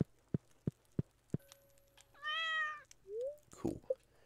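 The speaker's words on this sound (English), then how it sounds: "Oh, there's the cat." A cartoon cat meow from the Stardew Valley video game, a clear tonal mew that rises and falls, preceded by a run of evenly spaced soft game footstep taps and followed by short chirpy in-game effects.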